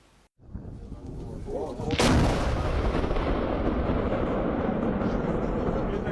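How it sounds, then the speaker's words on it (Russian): Artillery guns fire during military mobilization exercises: one sharp, loud blast followed by a long rolling boom and rumble that lingers and fades slowly, heard at some distance. "Запах пороха, грохот орудий и боевой настрой."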